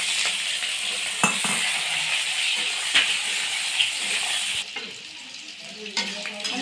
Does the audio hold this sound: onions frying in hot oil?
yes